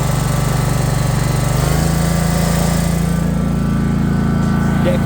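A 62-inch John Deere Z465 zero-turn riding lawn mower engine runs steadily up close, its loud drone dropping to a lower idle partway through with no talking.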